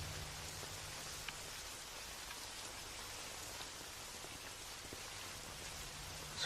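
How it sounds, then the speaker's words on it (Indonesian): Light drizzle falls steadily and softly, an even, faint hiss of raindrops with no voices. "Seperti hari ini, gerimis pun mengiringi kepergian Alia"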